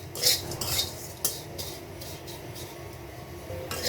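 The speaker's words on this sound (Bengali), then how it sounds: "ওই সাদা সেমাইটাকেও আমি ভেজে নিব। এটার মধ্যে কোনো আমি তেল বা ঘি বা কোনো বাটার আমি ব্যবহার করব না।" White vermicelli is dry-roasted in a pan with no oil, ghee or butter. A utensil scrapes and taps against the metal in a few close, irregular bursts over a quiet background.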